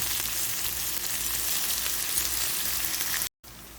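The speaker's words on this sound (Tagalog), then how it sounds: "add the 2 pieces of onion, chopped onion, and continue to saute for about 30 seconds" Chopped onion sautés in a hot pan for beef mechado, giving a steady, dense sizzle and crackle that runs unbroken and fairly close, cut by a brief silent gap near the end.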